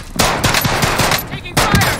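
Automatic gunfire rattles in rapid bursts during a military first-person shooter match. Two loud volleys are separated by a short, quieter stretch of scattered shots.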